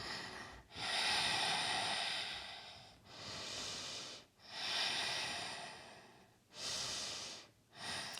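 Deep, slow breaths during a vinyasa power yoga flow, several long airy inhales and exhales in a steady rhythm, close and clear with short pauses between them.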